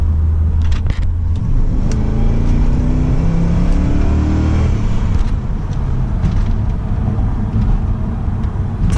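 A 2006 Pontiac GTO with the 6.0 V8 accelerates hard, its engine roaring loud and close as the revs climb and drop through a gear change, then pull up again in a steady, heavy rumble.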